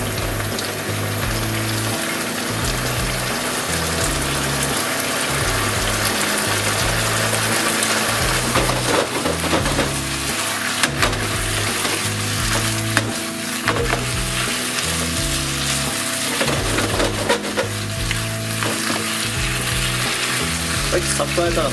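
Spaghetti goes into a frying pan with chicken thigh and a bamboo-shoot oil sauce, and a loud, continuous sizzle carries rhythmic tossing and stirring scrapes for the whole stretch.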